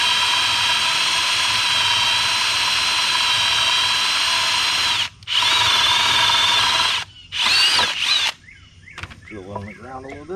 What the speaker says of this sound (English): So I got the drill bit here. I think this is a 5/8 inch spade bit.